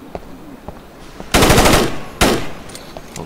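Two loud bursts of automatic gunfire in the tactical shooter Rainbow Six Lockdown, each lasting under a second with rapid repeated shots, separated by a short gap, over faint background game sounds.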